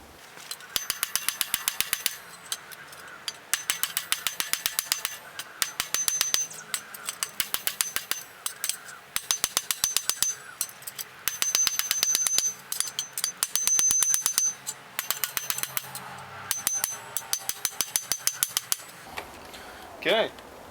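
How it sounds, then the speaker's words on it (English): A hammer forges an old file into a knife, with dozens of sharp metallic clinks on the anvil in quick bursts, paused between runs, loud and close. "I'm going to switch to a smaller hammer now"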